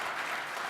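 Light, thin applause from a small audience lasting under a second, a steady soft patter of claps on a news business discussion panel, with no one talking.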